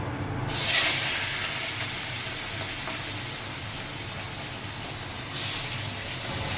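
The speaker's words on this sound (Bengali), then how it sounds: "তেলটা গরম হয়ে গেলে আমি চিংড়ি মাছটা ভেজে নেব" A steady, loud hissing sizzle of shrimp frying in hot oil, starting abruptly and holding constant, with a brief swell near the end.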